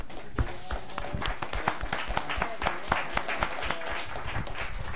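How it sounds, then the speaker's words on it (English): An audience at a hip hop professional development event applauds its panelists, a dense burst of many hands clapping steadily throughout, moderately loud with a little crowd murmur mixed in. "Let's have a round of applause for our panelists."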